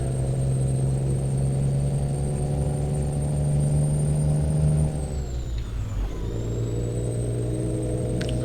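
A Peterbilt 389 truck engine in Euro Truck Simulator 2 drones loud and steady with a deep rumble, then the revs drop as it shifts, dips and climbs again, close and alone without talk.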